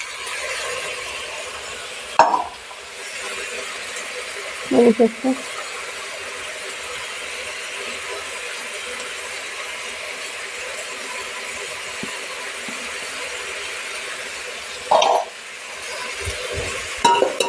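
A pan of Maharashtrian mixed vegetable curry with cumin, garlic and coconut masala is stirred, making a soft steady scrape with a few sharp utensil clinks against the pan, near and moderately loud.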